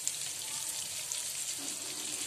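Halwa (pomfret) fish pieces frying in oil over a very low flame, a steady soft hiss and sizzle with faint crackles, continuous and close.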